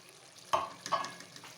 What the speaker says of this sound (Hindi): अब मैं इसे डालकर 5 मिनट भूनूंगी ताकि इस हरी मिर्चों का फ्लेवर सब्ज़ी में आ जाए।